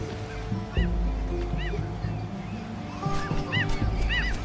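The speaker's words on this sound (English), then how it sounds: "Get out of here, seagull." Gulls cry again and again in a seaside level of the video game Unravel, clustered squawks rising through a steady layer of game music and ambient sound.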